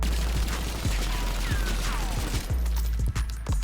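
An MPC submachine gun in Black Ops 7 fires in sustained full-auto bursts, a loud, dense rattle of rapid shots with brief breaks between strings.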